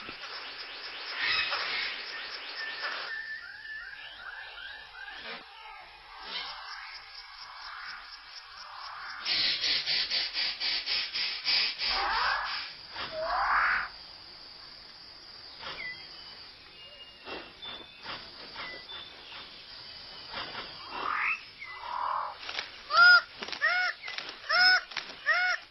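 A male six-plumed bird of paradise in a New Guinea forest gives scattered harsh, honking calls mixed with clicks and rustling, in irregular bursts at close range with quieter gaps between, and no talking.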